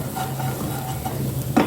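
Corn kernels sizzle in hot oil in a pan while being stirred, a steady close frying hiss with soft scraping and a sharper clink of the utensil near the end.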